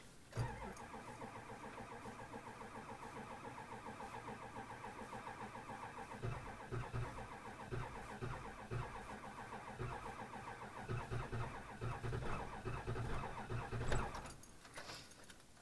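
A 2002 Ford F250 with a 7.3 diesel and dead glow plugs cranks on its starter in a long, steady, rhythmic churn for about fourteen seconds without catching, then cuts off.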